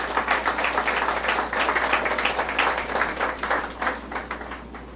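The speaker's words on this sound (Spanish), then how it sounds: "Dele un aplauso al Señor Jesús." A church congregation applauds during a sermon, sustained dense clapping that holds steady before tapering off toward the end, with a low electrical hum underneath.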